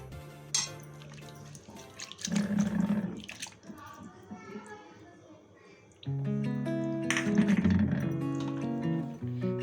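Tap water running and pouring into a cooking pot of potatoes and fish, a steady splashing gush that stops and restarts, with some faint background voice.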